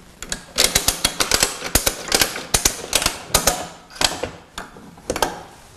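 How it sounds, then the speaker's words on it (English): Ratchet strap being tightened on a pneumatic drum rotator, a rapid series of sharp, close metallic clicks in quick irregular bursts, ratcheting repeatedly with short pauses between strokes. "Now connect the ratchet strap. Pull the slack out again, keeping the ratchet in your right hand."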